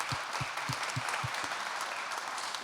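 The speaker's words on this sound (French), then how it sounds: "J'ai envie qu'on vous applaudisse d'abord pour votre premier partage" A seminar audience on local governance applauds, a steady wash of clapping from many hands that holds even throughout, moderately loud in an indoor room, with a few heavy low thumps near the start and no voices.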